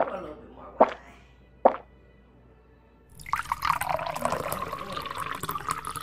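Wine poured into a glass: two sharp plops at first, then after a pause a steady, moderately loud liquid splash and trickle as the glass fills.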